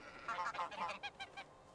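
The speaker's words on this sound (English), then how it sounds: "And now the goose can escape." Geese in the Medieval Dynasty video game give a rapid run of nasal honks, several calls bunched together over under two seconds, close and loud.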